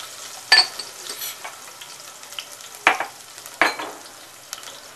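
A pinch of asafoetida and three or four crushed garlic cloves fry in hot oil with a soft, crackling sizzle. Several sharp spatters or stirring clacks stand out near the microphone, and no one talks.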